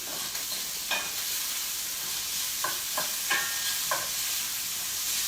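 Ham drops into a hot pan of onions and shallots, giving a steady close sizzle with a few sharp clinks and scrapes of stirring scattered through it.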